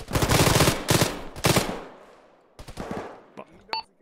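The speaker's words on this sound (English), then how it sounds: "He's fucking shooting through the wall." Automatic gunfire in the military video game ArmA during a ShackTac session, several loud close bursts of rapid shots, then a pause, then scattered quieter shots with a voice briefly audible.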